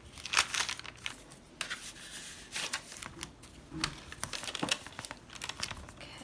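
Crinkly rustling and soft crumpling of thin phyllo pastry sheets being folded over for a traditional Greek tiropita cheese pie, in irregular close bursts with brief quiet gaps, no talking.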